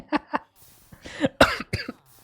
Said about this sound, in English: that was a unfortunate cough